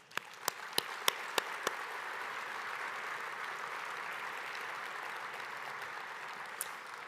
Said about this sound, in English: another round of applause for Heather Brown, who is this year's univer